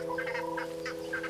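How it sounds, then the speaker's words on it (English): Crested guineafowl calling at dawn in a forest canopy around a yellowwood tree, a series of short clucking, chattering notes over a steady background drone. "the crested guinea fowls stir in the treetops all around the yellowwood"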